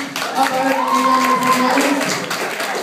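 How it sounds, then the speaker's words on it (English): Audience applause at a high school graduation-night hypnotist show, a broad crowd clapping rising under a voice talking over it. "Give him a big round of applause"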